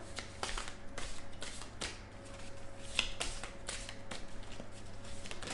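Tarot cards being handled and laid out during a reading, giving soft continuous shuffling and riffling with light taps and slaps, one sharper snap near the middle, over a steady low hum.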